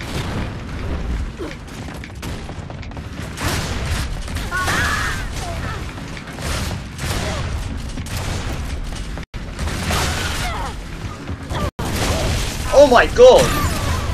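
Shotgun blasts in a free-for-all first-person shooter match come as several loud, sharp booms amid clattering game mechanisms, with a player exclaiming in between.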